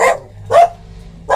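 Pet dogs barking indoors, two loud close barks with a third starting at the end, separated by brief quiet gaps.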